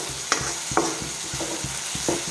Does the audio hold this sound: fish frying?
yes